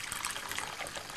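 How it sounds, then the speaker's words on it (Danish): Tea poured from a pot into a cup at a kitchen table, a steady liquid trickle with a bright splashing texture running continuously and fairly close. "Skal jeg hælde op til dig?"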